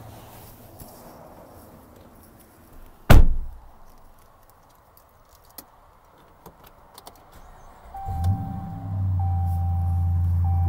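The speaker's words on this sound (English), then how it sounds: "You can hear that really nice exhaust that's on this truck, nice and loud." A 2013 Ram 3500 SLT Crew Cab 4x4 being started from inside the cab. A sharp thunk comes first, then quiet small clicks, then the engine cranks and settles into a loud, steady exhaust drone.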